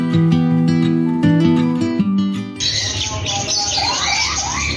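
Birds chirp and tweet continuously in a bird shop in Mashhad, Iran, where canaries and ringneck parrots are kept, with bright, overlapping calls and squawks rising over musical tones and filling the space at close range.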